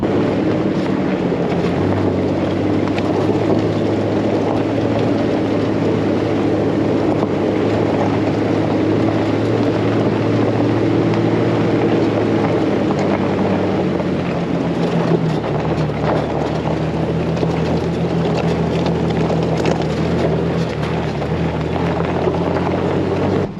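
A Jeep with a Rough Country 2.5-inch lift kit crawls uphill in first gear on Iron Mountain, its low, steady engine drone blended with constant wind buffeting on the microphone.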